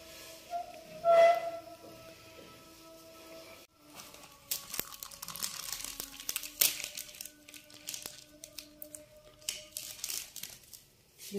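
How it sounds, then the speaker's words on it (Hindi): Paper being folded and crinkled around a chicken sandwich in a home kitchen: soft crackling and rustling bursts come close and irregular, with quieter handling noises in between. "इसी कागज को घुमाएंगे ना तो किनारे बड़े अच्छे अंदर फोल्ड हो जाएंगे।"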